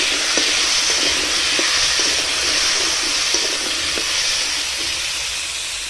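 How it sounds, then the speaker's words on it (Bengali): Potatoes frying in a kadai of hot oil make a loud, continuous hiss close by, with faint scattered pops and utensil taps and no speech, slowly easing slightly toward the end. "আলুটা একটু সুন্দর করে ভেজে নেব।"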